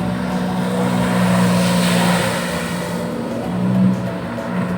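A loud jet ski engine on the Sabarmati River in Ahmedabad droning steadily, surging in pitch briefly near the end, with no voices.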